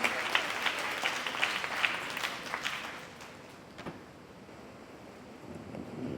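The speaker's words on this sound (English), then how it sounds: "A huge round of applause and a very warm welcome to CAS Venugopal sir." An audience at a CA students' conference in Ernakulam applauds to welcome CAS Venugopal, with dense, lively clapping for about three seconds that thins and fades into quieter room noise.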